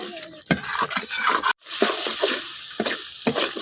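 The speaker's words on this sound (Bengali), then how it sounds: "এখন আমি মশলাটা কিছুক্ষণ কষাই নিলাম।" Spice paste sautéed and stirred in a pan for a chicken curry, heard as close scraping and clinking strokes against the pan over a light sizzle, in irregular bursts with a brief silent gap midway.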